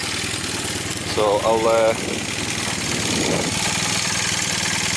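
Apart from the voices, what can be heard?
Honda CB400 motorcycle engine idling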